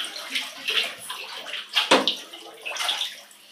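Spaghetti hoops and tomato soup are stirred by hand in an orange bathtub, making continuous close sloshing and squelching with one heavier splash midway.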